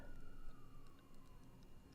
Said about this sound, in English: sorry if you can hear the siren